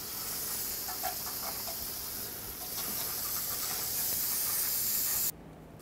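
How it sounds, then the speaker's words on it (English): Brake parts cleaner sprays onto the parking brake of a Chevy Express 3500 van as a steady, faint aerosol hiss for about five seconds, then cuts off abruptly. "spray some brake parts cleaner all over to get rid of all the dust, brake dust and debris"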